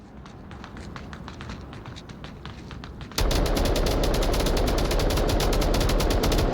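Rapid gunfire in a tactical shooter video game, with repeated shots popping at a distance before a much louder, dense burst of continuous automatic fire erupts up close and keeps going.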